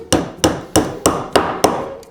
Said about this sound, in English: This is the safest way to hammer a nail into wood.